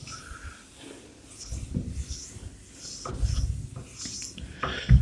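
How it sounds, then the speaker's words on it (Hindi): A duster rubs writing off a board during a maths lecture, making close, irregular scrubbing strokes with soft scraping bursts and short pauses between passes. "चलो तो इसको मैं रब कर देता हूं"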